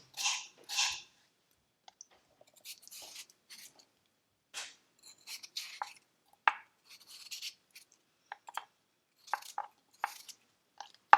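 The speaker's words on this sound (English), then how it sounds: "cut the potatoes probably into 8s" A knife cuts potatoes into chunks for a shrimp and potato curry, with sharp irregular chopping knocks on a board, some in quick pairs and others spaced apart, close and alone.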